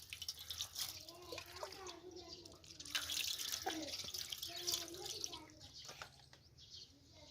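Tap water runs steadily into a sink while quail are being washed, a soft continuous splash with small drips and shifting flow, close by and fairly quiet, with a voice talking over it.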